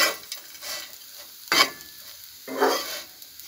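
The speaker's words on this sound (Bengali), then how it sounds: "আর রুটিটা ভাজা হয়ে গেছে।" Cut pieces of roti fry in a pan, sizzling steadily while a utensil stirs them in a few distinct scraping strokes, close and clear with no talking.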